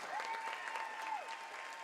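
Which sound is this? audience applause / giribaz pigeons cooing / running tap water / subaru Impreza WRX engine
audience applause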